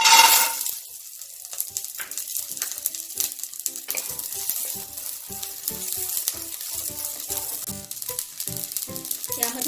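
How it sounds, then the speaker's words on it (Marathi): Green peas frying in hot oil in a kadai for matar kachori give a steady, loud sizzle, with occasional clinks and scrapes of stirring throughout. "थोडंसं कढईमध्ये तेल टाकून आता आपण मटार भाजून घेऊया"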